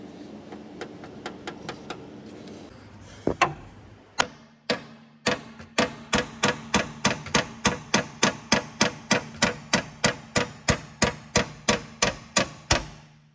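Metal hammering on the radiator brackets of a Mercedes-Benz W124 rings out in sharp, evenly spaced blows, a few scattered strikes first, then a long steady run of repeated hits at close range.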